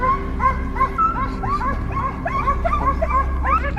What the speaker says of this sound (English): The distant barking of dogs signaled that the prey was near.